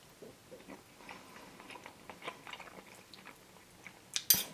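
Close, soft chewing of pasta in Barilla Ragù Montanaro meat sauce, with irregular moist mouth clicks and smacks, ending in a sharper, louder burst, with no speech.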